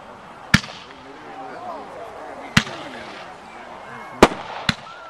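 Silver Bullet fireworks bang off outdoors in four sharp, loud blasts spaced irregularly, with a crowd murmuring and chatting faintly underneath between the reports.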